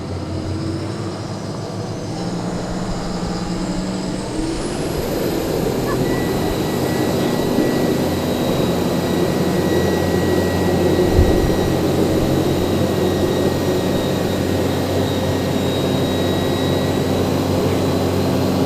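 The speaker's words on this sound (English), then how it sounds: "Just bringing the boat round to the other side of the race course now, so that's all the noise you can hear as we come round." Motorboat engine noise from a boat rounding to the far side of a gig rowing race course, a steady, loud drone that fills the whole stretch with no talk over it.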